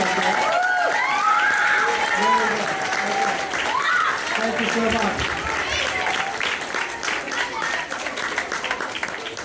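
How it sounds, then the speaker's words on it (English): Warm audience applause at a young storytellers' show, full and steady at first, then thinning, with voices talking and calling out over the clapping. "Give them a nice warm round of applause."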